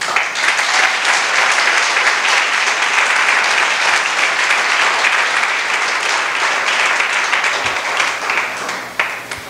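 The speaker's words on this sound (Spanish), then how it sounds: "Dese un aplauso a usted mismo" A church congregation applauds themselves during a Spanish-language sermon, a dense, loud wash of clapping sustained for nearly ten seconds before tapering off at the end.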